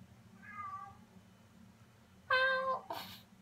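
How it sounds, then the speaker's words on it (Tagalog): A cat meows several times: one soft, short meow first, then two louder, sharper meows close together near the end, heard over a low steady background hum with no talking. "Yung pusa na naman."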